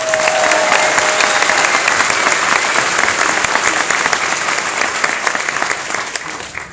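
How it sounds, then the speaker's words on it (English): Steady, full crowd applause at a family day ceremony for new citizens at Fort Jackson, dense clapping that holds evenly and fades slightly toward the end. "I'd also like to offer up a round of applause for our 20 newest citizens down here in front of us"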